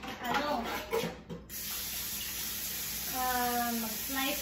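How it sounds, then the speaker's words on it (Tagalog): Tap water runs steadily onto a mango held under the faucet, a continuous close splashing hiss, with someone speaking briefly over it at the start. "Hugasan naman natin itong mangga."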